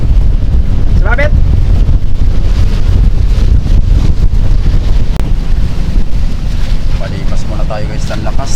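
Loud, steady wind roars and buffets across the microphone on a small Filipino bangka boat at sea, with low rumbling gusts and brief faint voices partly buried under it.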